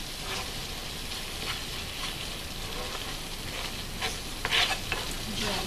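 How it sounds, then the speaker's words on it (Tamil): Chopped tomatoes and masala are sautéed in a pan for an arbi roast, giving a continuous frying sizzle with soft stirring scrapes and a short louder burst of spattering toward the end. "நீங்கள் இதில் போட்டு நல்லா வதக்கணும் இந்த மசாலாவோடைய"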